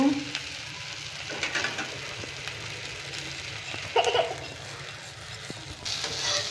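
Fried vegetables and semolina go into a hot, sizzling pan of oil for rava upma, with a steady frying hiss and a few louder bursts of stirring and scraping throughout, no talking.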